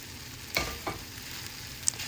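Paneer dropped into a hot pan and stirred, a steady close sizzle broken by a few scraping stir strokes and a small clink, no voices.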